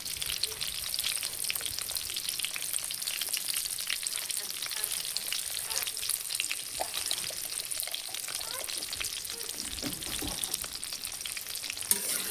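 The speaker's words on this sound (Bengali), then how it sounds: "আমি পটলগুলো এবারে দিয়ে দিচ্ছি। আমার তেল গরম হয়ে গেছে" Pointed gourd pieces with turmeric frying in hot oil, a dense continuous crackling sizzle held steady and close throughout, with no pauses.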